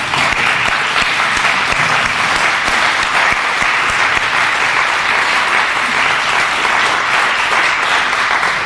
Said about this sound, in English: I'd like everyone to stand and give yourselves an amazing round of applause.